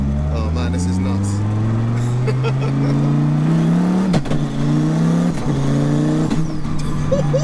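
Twin-turbo 8.4-litre V10 sequential Dodge Viper of about 2000 hp, its engine droning and rising steadily in pitch under light throttle, loud and close from inside the cabin, with brief shift dips and people talking over it.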